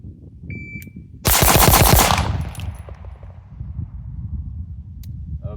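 Rapid string of six pistol shots from a Staccato XC fired from the low ready, a loud, fast burst of sharp cracks following a brief electronic beep of a shot timer, with echo trailing off afterward.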